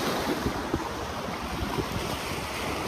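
Steady ocean surf washes in under sunlight, a broad continuous roar of breaking waves with gusty wind buffeting the microphone and a few soft surges rising through the noise.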